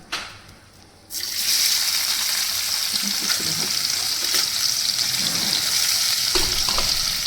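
Chopped onion hits hot oil in a wok with a sudden loud sizzle that holds steady and close, after a brief quieter moment of oil heating, with faint stirring scrapes underneath.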